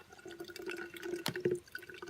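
Water trickles and drips through a Sawyer backpacking filter, a faint run of small drops and a thin stream with one sharp knock midway, quiet and close.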